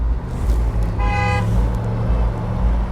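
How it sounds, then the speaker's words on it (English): Road traffic rumbles steadily around a rider on a 20-year-old Honda Goldwing motorcycle, and a car horn gives one short toot in the middle. "Traffic."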